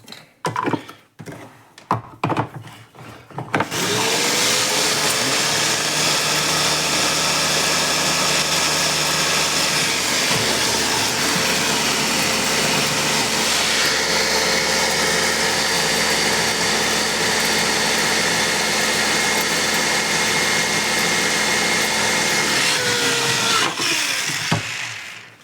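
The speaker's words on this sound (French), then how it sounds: "Et maintenant on va mixer." A few clunks and taps, then a blender roars to life and runs loud and steady for about twenty seconds, pureeing vegetable broth ingredients, before cutting off.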